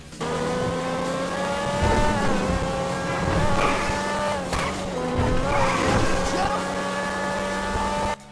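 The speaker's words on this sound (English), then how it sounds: "takes corners like a race car should, at very high speed with a lot of control" The Grotti X80 supercar in the GTA video game corners hard at very high speed, its engine holding a loud, sustained high-pitched whine layered with continuous tire squeal and skidding.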